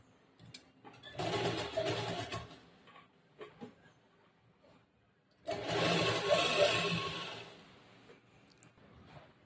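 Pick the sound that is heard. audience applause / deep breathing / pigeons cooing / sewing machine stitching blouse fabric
sewing machine stitching blouse fabric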